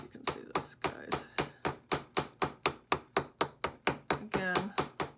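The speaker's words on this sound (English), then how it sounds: "Here's my chasing hammer" A chasing hammer peens a tube rivet set in acrylic with a fast, even run of about twenty sharp, close metallic taps, one brief pause near the end.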